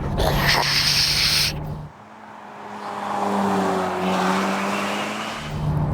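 A Ferrari California T engine screams at very high RPM nearby, a loud strained howl that cuts off sharply, then a second rising rev climbs and holds before another burst returns at the end.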